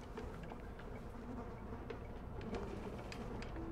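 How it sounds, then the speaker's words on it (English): Bees swarming in the video game Drug Simulator 2018, a continuous dense buzzing drone held throughout, faint and steady, with no talking. "There's a lot of bees over there."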